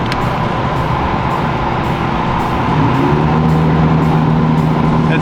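A twin turbo Ford Mustang accelerates hard at a race track, heard as a loud, steady engine roar whose pitch climbs midway through as the car pulls away, with no talking.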